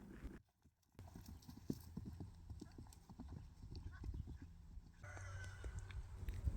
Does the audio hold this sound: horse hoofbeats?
yes